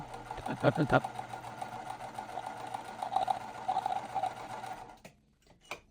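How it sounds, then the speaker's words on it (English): A sewing machine whirs steadily up close while piecing a quilt, with a brief rapid clatter of stitching early on, then stops abruptly near the end. "it thinks that the sound of the sewing machine is me talking"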